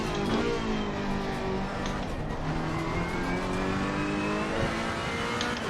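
Race car engine in Assetto Corsa Competizione on the Nürburgring, held at full throttle and revving steadily through rising gear harmonics, loud and continuous for the whole stretch with no talk.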